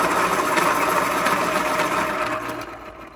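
An X-ACTO Boston School Pro electric pencil sharpener grinds a pencil with a steady, close motor whir that fades in the last moments.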